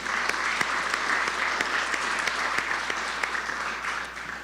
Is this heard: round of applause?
yes